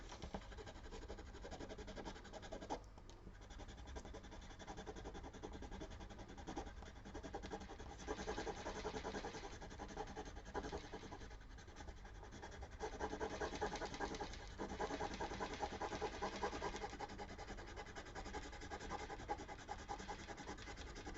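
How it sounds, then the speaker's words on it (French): Steady rubbing scrape of a tool over a vellum card during papercraft, continuous and close, moderately loud with slight surges over twenty seconds, no voices. "Donc on gratte."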